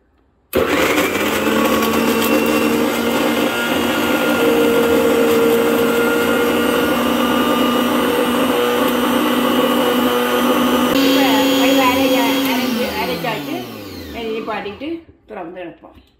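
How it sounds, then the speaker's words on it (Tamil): Mixer grinder whirring loudly and steadily as it grinds coriander sambal with tamarind and salt, running for about thirteen seconds before winding down and stopping near the end. "இப்போ அரைப்போம்."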